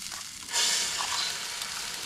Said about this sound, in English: let's fry up the farmhouse egg here.